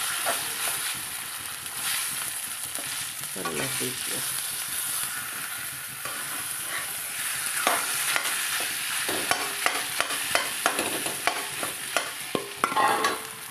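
Mashed boiled potatoes being stirred into browned cumin and coriander in a pan, steady frying sizzle with scraping stirs that grow into a rhythmic series of spoon knocks toward the end, close and without talk.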